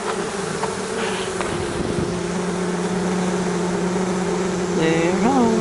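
Honeybees hum in a dense, continuous drone at the hive entrance, close and steady, with a few rising and falling whines of individual bees flying past near the end.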